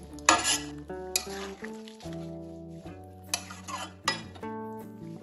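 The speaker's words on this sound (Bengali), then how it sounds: "সব কিছু উপকরণ ভালোভাবে এবার মিশিয়ে নেবো" A spoon stirs vegetables and fried lentil dumplings (bori) in a pot of shukto, with several loud metallic scrapes and clinks against a soft sizzle underneath.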